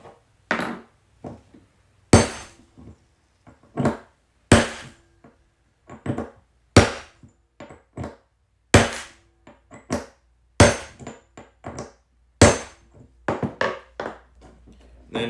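A hammer strikes a capping punch set in a capping block again and again, sharp metallic smacks at irregular intervals with brief silence between blows, loud and close.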